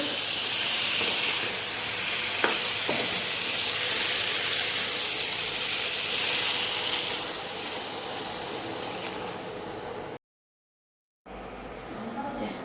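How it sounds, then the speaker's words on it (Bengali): Cauliflower curry sautéing in a pan, a loud continuous hiss and sizzle that eases slightly toward the end, broken by a brief gap of silence, with a couple of faint knocks. "এই যে ফুলকপির তরকারি কষাচ্ছি, এরপর জল দেবো।"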